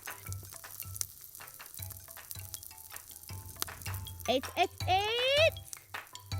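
Pensi clams grilling on a small wire mesh over embers, with scattered crackles and sharp pops from the shells amid clinking and a brief voice.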